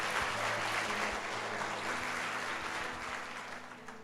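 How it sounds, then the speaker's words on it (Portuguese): A church congregation at a Sunday service applauds in a sustained, even burst of clapping that fills the room, easing slightly toward the close, with a faint low hum underneath. "Dê um aplauso ao Senhor Jesus."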